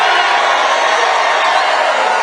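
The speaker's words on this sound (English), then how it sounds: "And what a crowd." A large outdoor crowd at a presidential rally in Rocky Mount, North Carolina cheers and roars steadily, a dense, loud wash of voices and whoops with no pauses.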